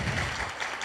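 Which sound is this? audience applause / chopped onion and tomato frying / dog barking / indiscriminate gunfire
audience applause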